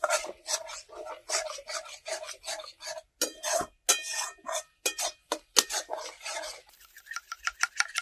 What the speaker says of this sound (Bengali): এবার মশলাটা ভালো করে একটু কষিয়ে নেব।